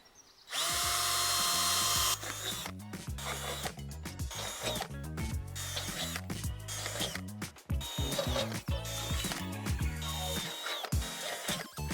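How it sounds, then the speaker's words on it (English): A power drill bores a hole for exterior facade panel cladding, starting with a loud steady whine and then breaking into rapid stuttering bursts of drilling and grinding, close and alone. "drill a hole"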